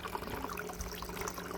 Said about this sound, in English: This for a waterfall. Just something simple. It just creates